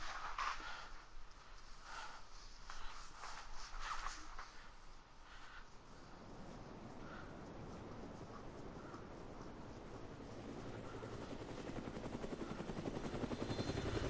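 Helicopter in the video game Dead Rising, a steady whirring rotor drone that swells and grows louder toward the end, heard alone without talk.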